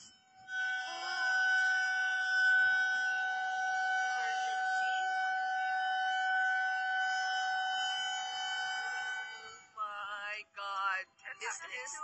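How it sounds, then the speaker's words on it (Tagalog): A loud, steady fire siren wails inside a house for about ten seconds, then cuts off as several people start talking close by. "nagising mga housemates sa nakabibing tunog ng sirena"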